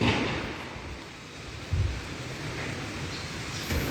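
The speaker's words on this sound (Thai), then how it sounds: "วันนี้ลมแรงนะครับ ลมแรงมาก" Strong wind blows outdoors by a house where solar panels are being fitted on a roof about five to six metres high, a steady loud roar buffeting the microphone with low gusty thumps and no speech.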